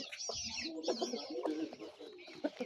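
Several chickens cluck softly nearby in short, irregular bursts with quiet rustling between calls.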